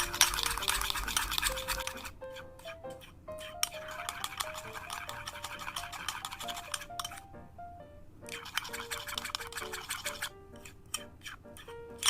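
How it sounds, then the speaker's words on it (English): Colgate toothpaste being mixed into slime: quick, busy scraping and brushing stirs start and stop in bursts, with soft clinks of a utensil against a container and faint music underneath. "let's add and let's mix our Colgate."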